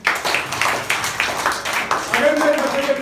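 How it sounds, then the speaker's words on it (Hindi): An audience claps for Aryan in steady, rhythmic beats, with voices over the applause. "आर्यन के लिए ताली बजाओ पहले"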